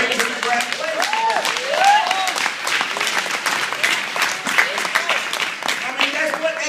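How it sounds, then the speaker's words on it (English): A graduation ceremony crowd applauds steadily, a dense patter of many hands clapping, with voices calling out and cheering over it. "thank you for your polite applause"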